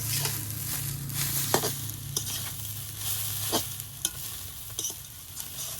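Jute leaf greens frying in plain oil with no salt or spices, stirred steadily, give a continuous close sizzle with scraping stir strokes and occasional sharper clinks of the utensil against the pan.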